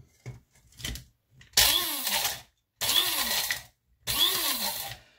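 A blade coffee grinder, packed with dried mushrooms, pulses about three times, each loud motor whir lasting roughly a second, with a few fainter short bursts first and silent gaps between them.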